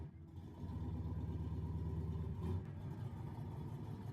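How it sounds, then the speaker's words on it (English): A car engine sits close by, revving to a steady, throbbing rumble that holds with a slight swell partway through, with no talking over it. "I'm gonna rev the engine here."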